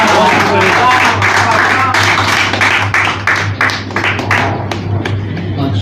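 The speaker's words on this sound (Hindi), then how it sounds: "एकदम जोरदार ताली" Loud, dense applause from an audience at an Urdu poetry event in Mumbai, sustained clapping that gradually thins out toward the end, with a steady low hum underneath.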